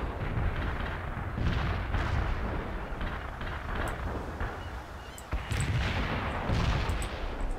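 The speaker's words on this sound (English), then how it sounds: "Sabatier, heavy artillery." Heavy artillery pounds continuously in World in Conflict: Soviet Assault, a dense roar of booming impacts and rumbling explosions with scattered sharper cracks, loud and sustained throughout.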